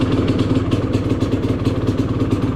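A ported Polaris 400 two-stroke engine idles loud and close with a steady, rapid popping burble and a slightly uneven, lumpy rhythm.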